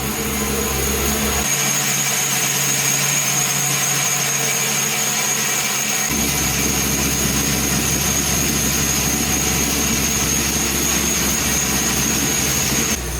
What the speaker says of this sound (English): So it does run with some throttle, but the crank signal light is on.